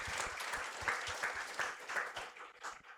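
An indoor audience at a building celebration in Medan gives a burst of applause after a musical performance, many hands clapping together at moderate volume, slowly thinning out toward the end.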